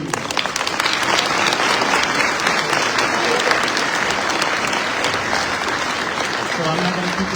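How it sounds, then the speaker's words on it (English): Sustained applause from a church audience at an evening peace-sharing talk fills the room, a dense, steady wash of clapping lasting the whole stretch without pause. "Another round of applause,"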